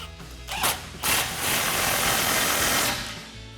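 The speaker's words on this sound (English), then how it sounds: "take a 15mm socket to tighten that down" A tool drives a 15mm socket to tighten the tailpipe clamp of a Borla Touring dual exhaust system on a GMC Sierra 1500, making a close, steady mechanical whir of about two seconds between short pauses.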